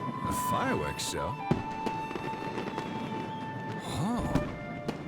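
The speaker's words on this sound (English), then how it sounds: "A fireworks show?" Fireworks bursting with crackling booms, several loud explosions in a row with whistling rises between them, over a steady background hum.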